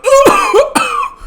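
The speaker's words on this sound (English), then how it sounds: "Thrax began to cough heavily," Heavy coughing in a Hearts of Iron IV game scene, two harsh throaty bursts close up, each with a rasping vocal edge, separated by a brief gap.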